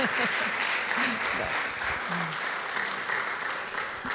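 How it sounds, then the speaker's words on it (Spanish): Audience applause fills the room after a book presentation, steady sustained clapping from a crowd with a few voices faintly underneath. "creo que le vamos a dar un fuerte aplauso"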